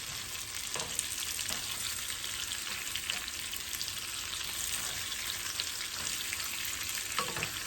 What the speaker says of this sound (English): The salt's gonna help that onion to caramelize and draw the liquid out.